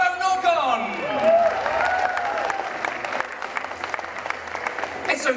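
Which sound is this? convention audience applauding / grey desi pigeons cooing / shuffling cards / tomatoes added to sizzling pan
convention audience applauding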